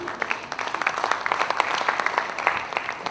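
Audience applause during a live product showcase demo in Chennai, a steady wash of many hands clapping filling the room for about three seconds, moderately loud and continuous with no talk over it.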